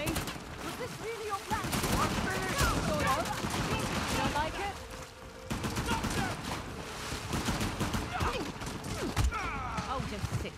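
Uncharted video game combat with long rifle shots and other weapons: scattered gunfire bursts and thuds over a dense game soundscape, with talking mixed in through most of it.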